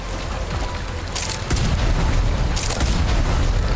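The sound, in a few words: explosions in a video game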